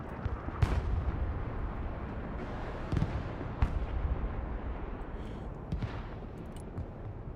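Missile strikes and explosions in the real-time strategy game Broken Arrow, a dense rumbling barrage with several sharp booming impacts standing out over continuous battle noise.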